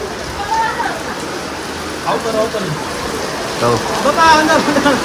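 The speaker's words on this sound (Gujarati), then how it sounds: "તો જો વરસાદ ચાલુ થઈ ગયો છે" Rain patters steadily on surfaces as a soft hiss at an outdoor stall, while people talk intermittently nearby.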